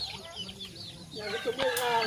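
A guinea fowl calls nearby in short, harsh, rising cries that come in quick succession, amid other farm poultry.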